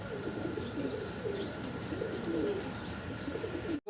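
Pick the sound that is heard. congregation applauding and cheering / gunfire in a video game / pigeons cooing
pigeons cooing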